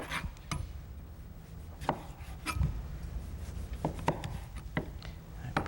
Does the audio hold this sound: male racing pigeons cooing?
no